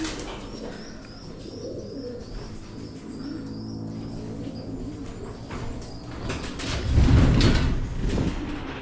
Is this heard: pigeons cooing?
yes